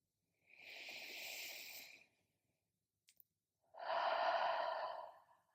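Two slow, deep breaths during a bedtime yin yoga stretch, each a long soft airy exhale close to the ear, separated by a quiet pause with a tiny click between them.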